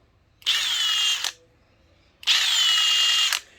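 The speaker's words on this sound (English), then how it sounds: "there's a bit of a higher pitch and then it cools off" Two short bursts from a Milwaukee impact driver loosening a fastener, each under a second, loud and close, starting at a higher pitch and easing slightly lower, separated by a pause.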